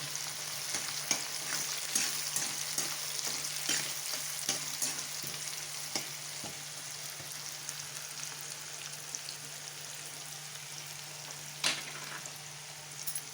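Onions frying in plenty of oil in a pan, a soft continuous sizzle with scattered pops and light stirring clicks, fairly quiet and close, with no talking.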